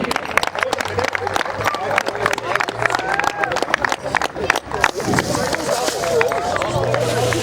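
Applause from a crowd at an award presentation for a football tournament final, a steady stretch of clapping with crowd murmur and talk mixed in throughout.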